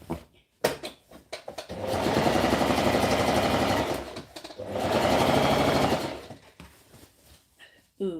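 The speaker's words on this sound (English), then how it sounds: "Let's stitch 1 inch." A sewing machine stitches the hem of a v-neck shirt in two sustained whirring runs of about two seconds each, separated by brief handling clicks and fabric shuffling.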